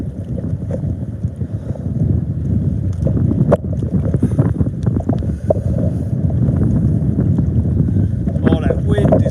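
Strong wind buffets a small boat out on the water while fishing for conger, a steady loud roar of gusts and microphone rumble with water sloshing, some faint voice, and a few sharp knocks on the hull.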